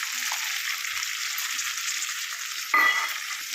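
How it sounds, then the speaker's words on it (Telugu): Green chillies and garlic fry in hot oil in a pan, a steady close sizzle that stays even, with one brief louder burst near the end. "ఇదిగోండి పచ్చిమిర్చి, ఎల్లిగడ్డ వేగుతున్నాయి"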